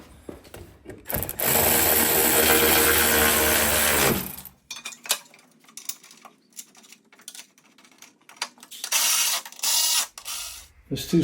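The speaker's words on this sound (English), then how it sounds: "I don't want to over tighten these bolts because it'll strip the plastic." A power tool drives bolts into plastic on a John Deere LA165 lawn tractor, with a loud continuous whir for several seconds, then intermittent ratcheting clicks and clanks and a brief second burst near the end.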